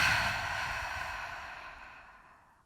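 A deep yogic exhale through the mouth during a slow, relaxing yoga flow: one long, breathy rush of air that starts fairly loud and close, then fades steadily over a few seconds, with no talking.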